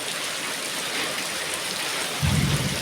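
Steady heavy rain falls in Jeneponto, a dense continuous hiss throughout, with a low rumble swelling near the end.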